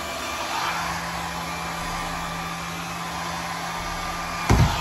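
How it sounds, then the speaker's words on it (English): A hair dryer whirs steadily at close range with a constant high-pitched hum, followed by a brief thump near the end. "I'm gonna go ahead and use a handy dandy blow dryer"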